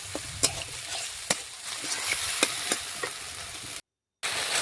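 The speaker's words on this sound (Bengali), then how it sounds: "সমস্ত কিছু একসাথে মিশিয়ে মশলা একটু ভেজে নেব।" Onion-and-tomato spice paste fries for a quick cabbage dish, with a steady sizzle punctuated by repeated sharp clacks of a spatula stirring against the pan. It cuts to a brief silence before the sizzling resumes.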